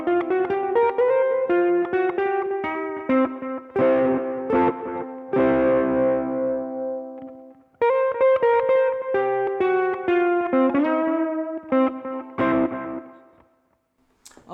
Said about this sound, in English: Let's just try a little bit of overdrive. I've still got the EQ, reverb and a little bit of delay on.